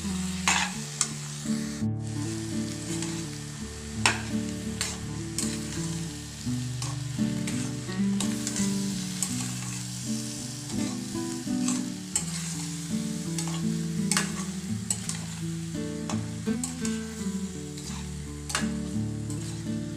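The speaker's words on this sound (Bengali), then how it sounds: "পোস্ত বাটা দেওয়ার পরে কিছুক্ষণ ধরে নেড়ে চেড়ে নেব" Potatoes with poppy seed paste are stirred in a sizzling pan, giving a continuous low frying hiss broken by repeated scraping and clinking strokes of a spoon against the pan, close and steady throughout.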